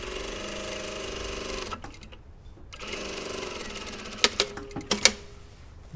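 A sewing machine stitches over an existing seam line in a steady, close, whirring run that pauses briefly, resumes, then breaks into a few sharp clacks and bursts near the end.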